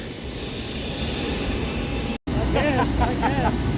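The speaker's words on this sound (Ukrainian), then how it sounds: "Тут дуже шумно, злітна полоса" Loud, steady jet aircraft engine roar on an airport runway fills the whole clip, briefly cutting out once, with a voice speaking over it near the end.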